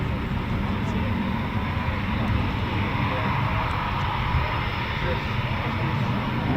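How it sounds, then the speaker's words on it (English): Eurofighter Typhoon FGR4 jets taxi at RAF Coningsby with a constant loud engine roar and rumble that holds steady throughout, with no break. "And we've got more taxiing out."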